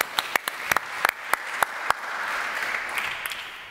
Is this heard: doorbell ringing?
no